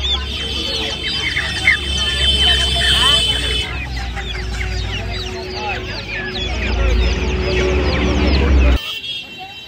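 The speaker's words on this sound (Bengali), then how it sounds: "এখানে দেখতে পাচ্ছেন করকনাথ মুরগি আছে, এটা বাচ্চা আছে" Two-month-old Kadaknath chicks and other fowl at Uluberia's chicken and pet market cluck and cheep in a dense, continuous chorus under steady crowd noise, with people talking nearby until an abrupt cut.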